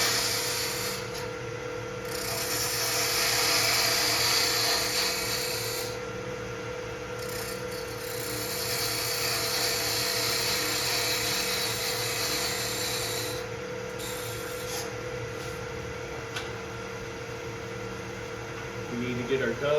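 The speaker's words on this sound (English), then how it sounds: "I can take my parting tool again and get to that step." Wood lathe turning a small pot while a parting tool cuts a step, a steady motor hum with a scraping, rasping cut that swells and fades in passes, close by.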